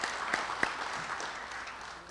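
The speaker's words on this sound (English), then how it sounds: "Démosles un aplauso" An audience at a school district parent awards event applauds, a soft continuous wash of many distant hands with a few sharper claps near the start, faint and steady.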